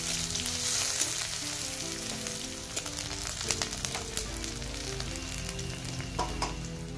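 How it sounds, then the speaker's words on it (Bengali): Chopped onions and green chilies fry in hot oil in a wok, giving a steady sizzle with scattered crackles and pops, close and alone. "কুচিয়ে রাখা পেঁয়াজ আর কাঁচা লঙ্কাগুলো দিয়ে 1 থেকে 2 মিনিট ভেজে নিব।"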